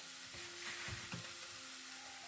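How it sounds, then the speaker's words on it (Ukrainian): Onion, carrot, tomato and garlic sizzle in two tablespoons of hot oil in a pan, a quiet steady hiss with a faint stir or scrape midway. "І це все обжарюю."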